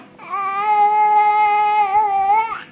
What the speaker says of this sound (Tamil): இந்த பாப்பா அழுகுது பாரு